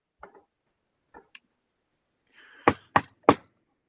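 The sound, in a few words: knocking on a door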